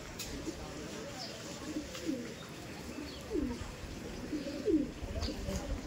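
Repeated soft cooing from an Andhra Lambari Rekdar Madrasi pigeon during a sale, low murmuring calls recurring every second or so at moderate distance, with faint background noise.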